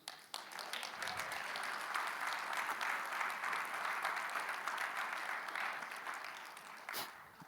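A church congregation applauds during a sermon, a steady, dense wash of clapping that holds evenly for several seconds before thinning out near the end, heard at moderate distance.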